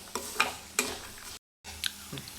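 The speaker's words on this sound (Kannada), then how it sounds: "ಬೆಳ್ಳುಳ್ಳಿ ಗರಿ ಆಗಬೇಕು ಅಂದರೆ ಸಣ್ಣ ಉರಿಲಿ ಫ್ರೈ ಮಾಡ್ಕೊತಾನೇ ಇರಬೇಕು." Garlic cloves frying slowly in a pan over a low flame for a spicy puffed-rice snack, a faint hiss with a few short scraping stirs and a brief gap of silence partway through.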